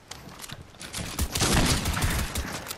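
Rapid SMG fire in a video game crackles in quick repeated bursts, building louder toward the middle and holding steady to the end, with no talking over it.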